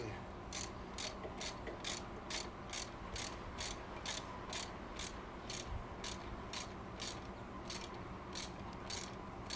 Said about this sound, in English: Let me go ahead and tighten that other one up.